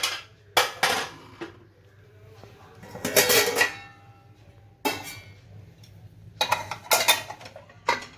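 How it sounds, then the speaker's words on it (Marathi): Pressure cooker lid opened after cooking rice in a home kitchen, giving several sharp metallic clanks and clinks in bursts with quiet gaps between them. "आता उघडून बघूया कुकर"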